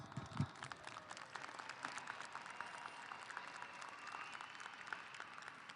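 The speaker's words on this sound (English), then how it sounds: "Let's give them a round of applause." Graduation ceremony audience applauding the class of 2023 at Bowie High School, a steady, fairly distant wash of many hands clapping that holds for several seconds without speech.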